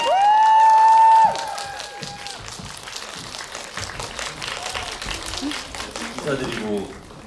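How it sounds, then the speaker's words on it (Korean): Audience at a Korean film screening and greeting event applauding, a sustained crowd clapping that follows a brief tone at the start, with voices mixed in underneath. "박수."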